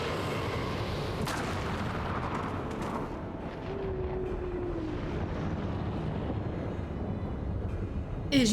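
Heavy booming cannon fire from an airship in Final Fantasy XIV rumbles continuously over a dense, roaring background, with a brief whistling tone midway and a sharp crack at the end.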